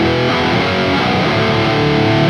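A crunchy distorted electric guitar tone from a Quad Cortex, recreating a metal sound, plays loud and dense as a sustained chord, alone without talking.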